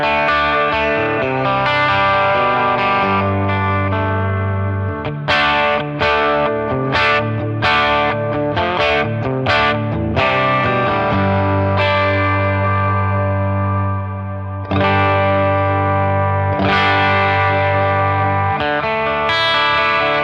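A Mayones electric guitar runs through a boost pedal into a clean amp channel, playing loud, driven chords, sustained notes and quick picked phrases with a thick, slightly distorted tone, and no talking.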